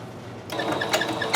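A sewing machine stitches a seam on a wheelchair pouch, starting after a short pause with a quick mechanical whir and rhythmic clicking needle strokes, close and moderately loud.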